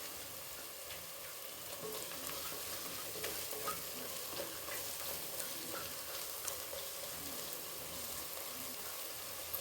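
Ginger and garlic sauté gently in oil on low heat, giving a soft, continuous sizzle with faint stirring scrapes throughout.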